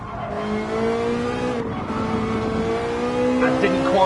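A Ferrari GR4 race car in a racing video game, its engine note climbing steadily as it revs through a gear, with a tonal whine rising over continuous road and tire noise; a voice may be talking underneath.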